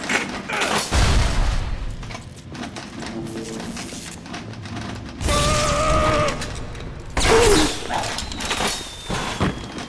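Grenade blasts in the video game Bioshock, several heavy booming bursts spaced a few seconds apart, with clanking mechanical game noise and a short shout between them.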